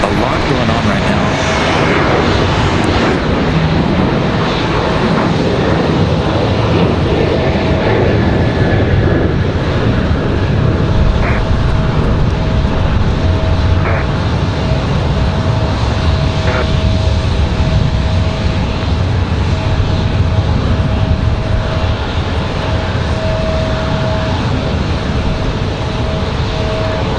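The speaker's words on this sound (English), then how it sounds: "So we've got United on departure in that 737." United Airlines Boeing 737 taking off at Raleigh-Durham on a windy day, a steady rumbling jet roar that persists throughout, with a voice talking over it.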